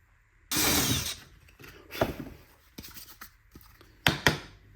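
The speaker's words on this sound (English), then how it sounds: "I'll go ahead and drill out the rest of the holes" A few separate bursts of harsh, buzzing drilling into kydex sheet for a magazine pouch, the first long and steady, then shorter bites with scraping between, close up and fairly loud.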